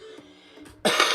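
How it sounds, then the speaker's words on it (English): A single short cough bursts out after a moment of quiet, close and fairly loud. "Still got that cough."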